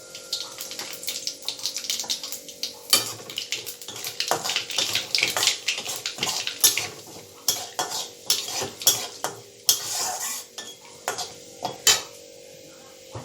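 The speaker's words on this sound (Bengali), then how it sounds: "এবারে আঁচটা বাড়িয়ে নিচ্ছি, একটা তেজপাতা দিচ্ছি ফোড়নে, দারচিনি দিচ্ছি, আর দিচ্ছি কালো জিরা।" Bay leaf, cinnamon and nigella seeds go into hot oil for tempering, with close metallic clinks and scrapes of a utensil against the pan over a faint sizzle, in irregular bursts.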